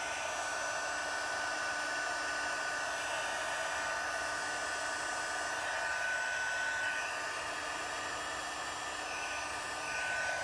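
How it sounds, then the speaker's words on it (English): An embossing heat tool blows steadily with a constant, airy whir while melting embossing powder on a handmade birthday card, a soft even drone with no pauses and no voices. "as the embossing powder heats up, it changes colors and it becomes reflective."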